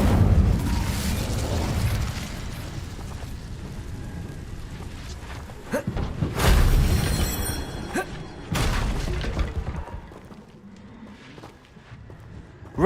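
Fiery bursts from an Incendio spell in Hogwarts Legacy erupt in loud whooshing blasts, with a sustained roar at the start and sharper flares around six and eight seconds before the sound dies away.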